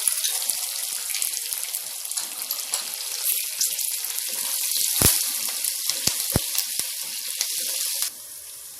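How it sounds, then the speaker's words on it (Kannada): Curry leaves drop into hot oil already frying chana dal, urad dal and chillies for chitranna. They give a steady, close sizzle with a few sharp pops and crackles, and no talk. "ಇವಾಗ ಕರಿಬೇವು ಹಾಕೋಣ."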